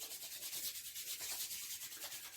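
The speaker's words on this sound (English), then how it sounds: "just rub your hands until they're dry" Palms rubbed briskly together with whiskey until dry give a close, soft, rhythmic swishing friction that repeats in quick even strokes.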